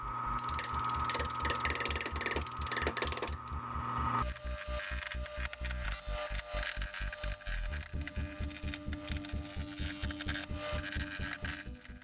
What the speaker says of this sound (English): This lathe is really quiet when it's running